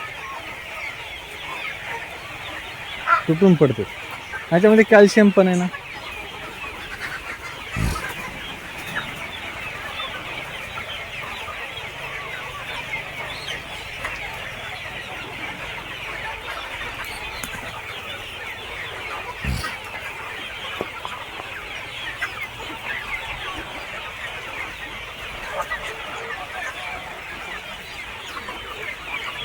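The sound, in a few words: chickens eating moringa branches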